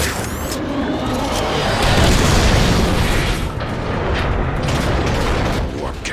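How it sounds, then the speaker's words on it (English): Warp cannon fire and explosions from the video game Transformers: Fall of Cybertron form a dense, continuous barrage of heavy booms and crackling blasts that stays loud and close throughout. "Warp cannons. Megatron isn't holding back anything this time."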